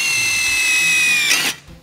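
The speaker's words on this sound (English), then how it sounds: "Or if you're drilling something like this stainless steel, Bad Dog, you can drill through this plate." A power drill fitted with a Bad Dog multi-purpose bit bores through a stainless steel plate with a steady high-pitched whine. The sound ends in a short grinding burst as the bit breaks through, then stops.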